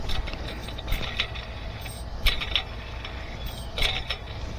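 A Chevrolet serpentine belt tensioner pulley spun by hand close by, giving faint, uneven mechanical creaks and light grinding clicks in a few short bursts over a quiet background.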